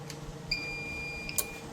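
A SMAERTON power inverter's relay clicks as the unit is switched off, heard as a few faint, sharp ticks over a low hum with a thin tone in between.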